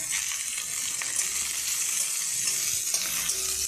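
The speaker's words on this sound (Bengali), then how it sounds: "রসুন থেতো, কাঁচা লঙ্কা, পেঁয়াজ দিয়ে দিলাম। তারপর একটু নেড়ে" Crushed garlic, green chili and onion fry in oil in a pan, giving a steady bright sizzle with soft scraping of stirring throughout and no voices.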